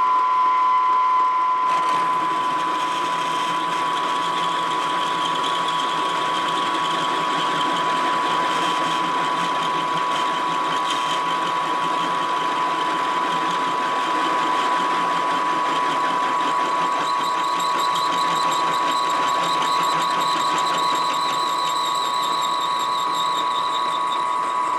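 A masonry bit drills holes in hard steel, producing a steady, loud, close whine with a high ringing tone and a continuous grinding rattle that holds for over twenty seconds.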